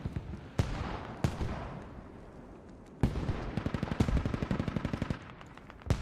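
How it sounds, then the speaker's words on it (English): Artillery and mortar fire rumble in the Squad battlefield, with heavy single blasts early followed by a rapid string of loud, close reports and a final boom. "Artillery is overhead."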